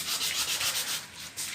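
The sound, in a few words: sanding a car body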